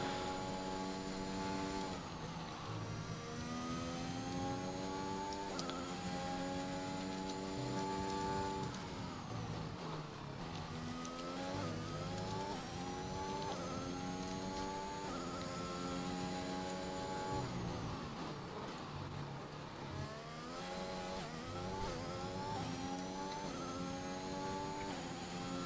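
A racing-game race car screams around Imola on a flying lap during an Emilia Romagna Grand Prix league round. The engine note climbs steadily, then drops sharply at each gear change, a continuous whine with no talk.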